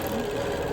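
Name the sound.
sewing machine quilting a quilt spine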